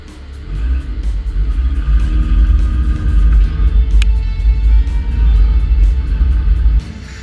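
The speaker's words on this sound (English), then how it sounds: "You ready to go racing? Let's go skid plate racing time." Cars line up for a skid plate race: a loud, close, continuous engine rumble with a rapid pulsing throb and occasional revving swells, running steadily for several seconds before dropping off at the end.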